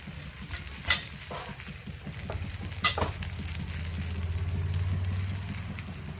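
Poha thalipeeth fries in oil on a hot tava with a steady, soft sizzle. A couple of brief clinks break through, and the frying grows slightly louder toward the end. No one speaks.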